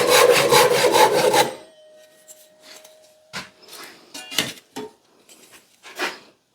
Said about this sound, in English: Actually, I'm just gonna use the Japanese saw.